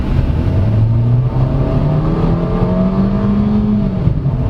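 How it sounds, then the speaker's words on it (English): A 2019 Kia Rio EX with automatic transmission accelerates at full throttle, its engine droning loud and close as the pitch climbs steadily before easing off near the end. No talking. "Wait, watch when I floor it."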